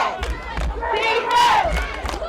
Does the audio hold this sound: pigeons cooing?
no